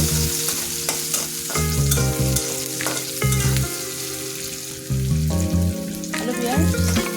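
Bay leaves and cinnamon frying in very hot oil, a loud continuous sizzle up close with repeated metallic scraping and clanking from a stirring utensil against the pan.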